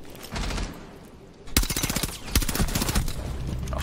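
A video game SC3000K gun fires in rapid automatic bursts: a short burst, a pause, then two sustained volleys of sharp, evenly spaced shots, loud and close.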